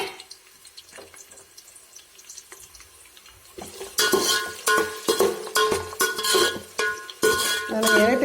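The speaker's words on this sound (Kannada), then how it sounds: "ಎಣ್ಣೆಗೆ ಈರುಳ್ಳಿ ಮತ್ತು ಹಸಿರು ಮೆಣಸಿನ್ಕಾಯಿ ಹಾಕ್ತಾಯಿದ್ದೀನಿ" Onion and green chillies drop into hot oil and begin frying, moving from quiet clinks and light handling into a loud, crackling sizzle with stirring and scraping bursts, close up, as if in a pan.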